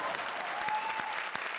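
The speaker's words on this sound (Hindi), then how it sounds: "जोरदार तालियां।" Studio audience applause at a Hindi comedy show, a brief loud burst of dense clapping filling the room, with a faint voice underneath.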